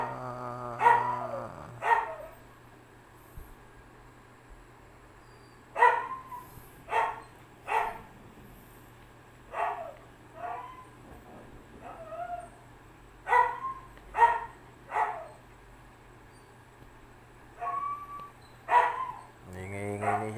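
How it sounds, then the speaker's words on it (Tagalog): A dog barks repeatedly indoors, with sharp, separate barks coming in irregular bursts over a quiet background and a low steady hum running underneath. "Ingay-ingay niya. Tahol ng tahol"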